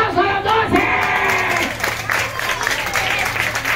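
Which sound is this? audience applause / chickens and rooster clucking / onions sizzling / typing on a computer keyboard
audience applause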